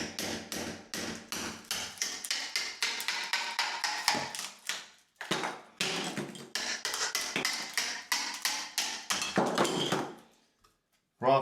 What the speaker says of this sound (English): hopefully these tiles are going to be easy to get off, just using a small chisel